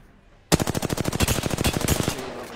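Rapid automatic gunfire in Apex Legends erupts suddenly into a loud, sustained burst of evenly spaced shots lasting about two seconds, then cuts off, with no talking during the burst.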